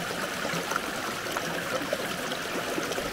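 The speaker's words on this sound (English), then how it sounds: "the sound of the river in the forest is really refreshing" Icy cold river flowing through forest on the South Face Track at Mt Somers, Canterbury, heard as a steady, moderately faint babbling rush with small gurgles throughout and no talking.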